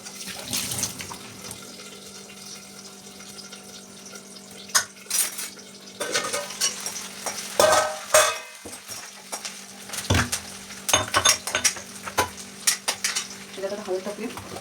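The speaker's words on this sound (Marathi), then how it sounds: "लसूण टाकूया." Garlic sizzles in a hot pan, a close crackling fry with stirring scrapes and clinks of a utensil against the pan in irregular bursts.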